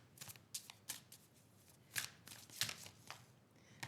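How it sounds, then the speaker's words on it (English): Oracle cards being shuffled by hand nearby, with quiet irregular riffles and soft slaps in uneven bursts and no speech. "I shuffle cards"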